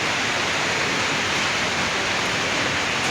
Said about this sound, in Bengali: বর্তমানে কিন্তু খুব সুন্দর একটা বৃষ্টি হইতেছে